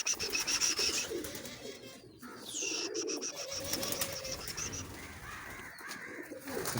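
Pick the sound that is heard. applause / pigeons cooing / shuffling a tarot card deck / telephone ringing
pigeons cooing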